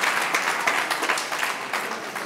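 An audience at a service-recognition celebration applauds a long-serving physical education teacher, with dense, steady clapping throughout and no speech over it.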